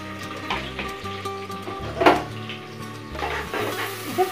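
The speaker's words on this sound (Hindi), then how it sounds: "इसे मैंने रफली चॉप कर लिया और वो इसके अंदर डाल देंगे।" Two medium onions, roughly chopped, fry in a pan for aloo tahari, giving a steady close sizzle with occasional stirring clatter and a louder burst partway through, over faint tonal background sound.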